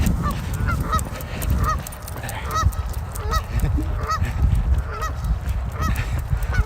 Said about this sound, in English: Oh, there's some geese.